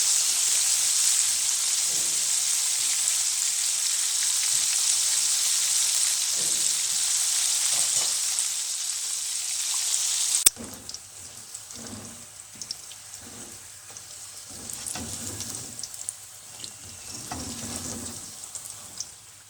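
Popcorn chicken pieces bubble and sizzle in hot oil, a steady bright hiss that softens partway through into quieter crackles and small pops.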